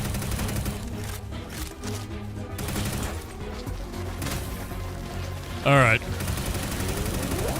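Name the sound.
gunfire in a video game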